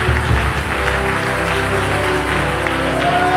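A church congregation claps and cheers in praise, a dense, steady wash of applause and crowd noise held at constant loudness under music for the whole stretch.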